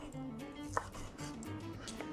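Bacon being chopped into cubes with a knife on a board gives a run of light, close tapping cuts, with one sharper knock partway through.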